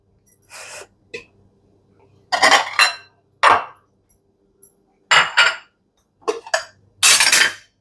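In a home kitchen during curry cooking, a mixer jar is set down on the counter, giving several short, close clinks and knocks spaced apart by quiet gaps.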